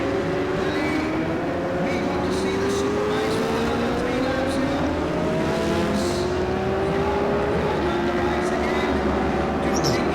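Race car engine on a circuit straight during a lap, its whine climbing steadily in pitch over a constant roar of track noise.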